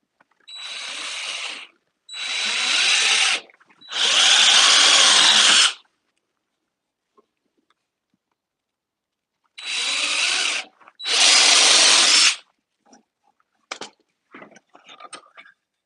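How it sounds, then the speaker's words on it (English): A power drill bores holes in five loud, close bursts of roughly one to two seconds each, separated by pauses, followed by a few faint clicks and taps. "Let's drill a few more holes."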